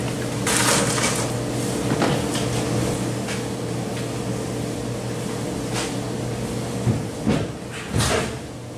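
A wide-opening appliance door swings open and shuts with a few sharp knocks and clicks near the end, over a steady low machine hum that runs throughout.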